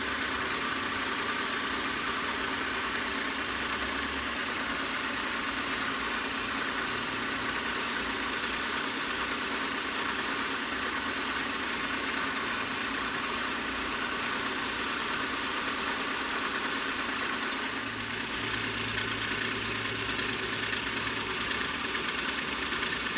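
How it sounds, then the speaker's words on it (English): Belt grinder running a 400 grit abrasive belt while a bearing straight razor is finished, a steady, loud motor drone with constant hiss throughout, no voices. "this abrasive belt is just running way cooler"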